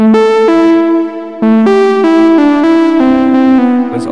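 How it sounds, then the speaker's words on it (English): A distorted synth lead plays a short descending melodic phrase, buzzy and harmonically rich, loud and close, with sustained notes stepping down in pitch and no voices over it. "You can add some distortion."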